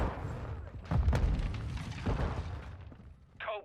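Gunfire and explosions in the Warzone battle royale game, played inside GTA V FiveM: a dense, rumbling barrage of booms and shots rolling on continuously, peaking in a heavy burst near the start, with a short whistling tone at the end.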